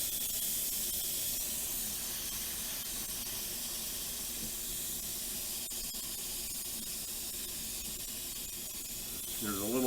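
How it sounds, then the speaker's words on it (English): Steam venting through the button valve of a pressure cooker, a continuous loud close hiss that holds steady for the whole stretch and swells slightly at the end. "So we're just going to release the steam."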